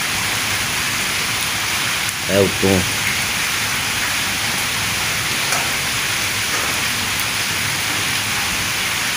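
Heavy rain pours down on a village in Punjab, Pakistan, as a steady, dense hiss with no break. A voice briefly speaks partway through.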